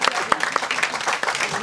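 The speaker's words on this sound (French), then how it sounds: "Là, ça s'applaudit." Audience at a live comedy stage show bursting into a short round of applause, brisk clapping from a crowd heard close with a voice speaking over it.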